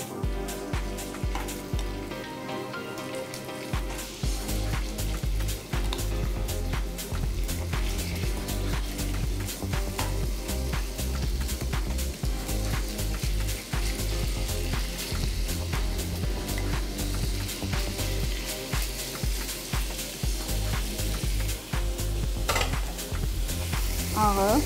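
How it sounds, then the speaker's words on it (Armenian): Meat added to a hot pan sizzles loudly and continuously, with rapid clattering stirring strokes and scraping close up throughout, and no talking. "Ավելացնում եմ միսը։"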